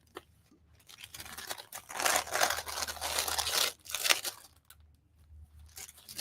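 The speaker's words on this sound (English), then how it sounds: "I'm just peeling these off." Items being peeled off a surface during a craft workshop make crinkly tearing and rustling sounds, close and moderately loud in a couple of bursts, with quiet pauses in between.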